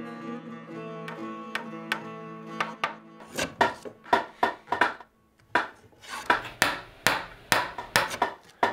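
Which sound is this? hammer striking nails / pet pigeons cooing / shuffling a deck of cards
hammer striking nails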